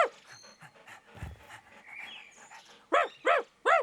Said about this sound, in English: It can't possibly translate the dog voice to a human voice.